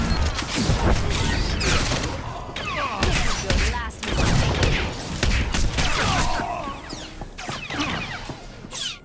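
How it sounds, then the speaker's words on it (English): A blaster gunfight in Star Wars: The Old Republic, with loud, dense bursts of shots and crashing impacts over roughly nine seconds, while voices shout beneath the rapid fire. "Warden! Return fire!"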